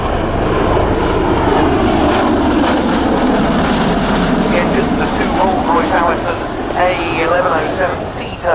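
A V-22 Osprey tiltrotor aircraft makes a high-speed pass at 500 feet during an air show, a loud, sustained engine roar that swells and fades, with a narrator speaking over it.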